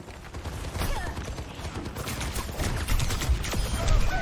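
Gunfire in the Overwatch video game, a dense stream of rapid crackling shots and clattering mechanical effects from a busy team fight.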